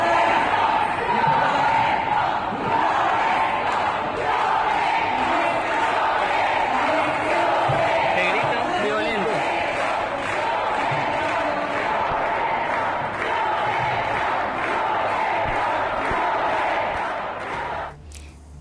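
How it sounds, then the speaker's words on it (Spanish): Government deputies booing and shouting at the opposition inside a parliament chamber, a loud, sustained crowd roar of jeers that continues without a break before dropping away at the end. "el abucheo del oficialismo a la oposición"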